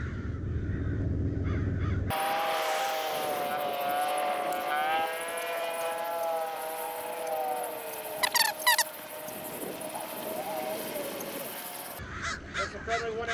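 A bird calls with harsh, squeaky caws against steady outdoor noise, a few rapid chirps breaking in near the end.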